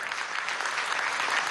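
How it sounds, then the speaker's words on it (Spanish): Steady, dense applause from a crowd at a government event with Venezuela's President Maduro, clapping continuously throughout. "un aplauso aquí"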